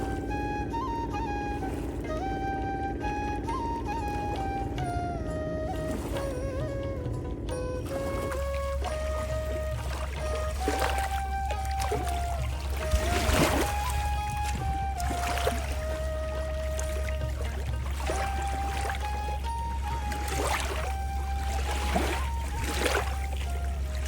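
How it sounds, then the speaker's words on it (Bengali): Water of the Padma River rushes and gurgles around a wooden fishing boat, a continuous loud wash with a steady low engine-like drone underneath and occasional splashing surges. "শুনতেই তো পেলেন পদ্মার সেই বিশালতার কি আওয়াজ"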